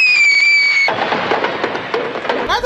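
A fireworks scene from an animated movie with a high whistling tone that gives way to a dense burst of crackling and popping, loud and continuous, ending with a brief squealing sweep.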